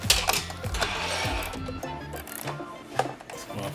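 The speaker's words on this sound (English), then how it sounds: "Get you a set of ratchet wrenches." A ratchet wrench tightens bolts on a Mega Moto 212 mini bike, giving rapid close metallic clicking in short irregular bursts.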